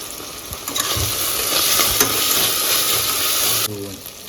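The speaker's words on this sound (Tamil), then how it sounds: "இப்போ இதையும் நல்லா வதக்கி கொடுத்துடலாம்" Ginger and garlic sizzle loudly in a hot pan with continuous frying hiss, punctuated by scraping stirs of a spatula.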